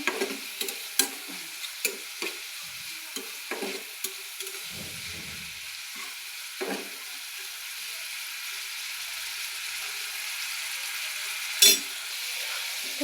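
Food sizzles steadily in a hot pan while a utensil scrapes and stirs in short, scattered strokes as ridge gourd fries.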